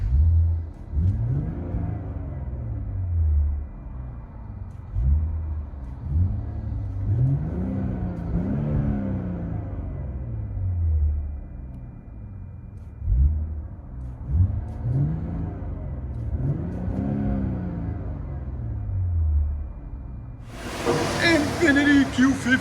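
A 2019 Infiniti Q50 S AWD with a 3.0L twin-turbo engine and Flowmaster Flow FX exhaust, muffler deleted, heard from inside the car. It gives repeated rising and falling revs in several bursts, deep and booming, with a sharp broadband noise at the very end.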